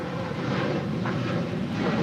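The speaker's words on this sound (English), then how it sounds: "This is United Airlines 489 departing to Denver on a 737-900ER." Steady, loud broadband roar of a United Boeing 737-900ER jet airliner at LAX, departing for Denver; the engine noise holds constant throughout with no talk over it.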